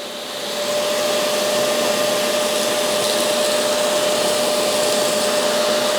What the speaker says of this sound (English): I can suck up all the mess first, the dry mess. And get the crumbs out of there.